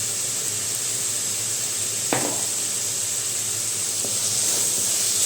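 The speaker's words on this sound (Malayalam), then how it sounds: "രണ്ട് മിനിറ്റ് ഒന്ന് ഇങ്ങനെ വഴറ്റിയെടുക്കാം" Pineapple pickle mixture sautéing in a hot pan, a steady close hiss and sizzle throughout with a single brief knock of a spoon against the pan partway through.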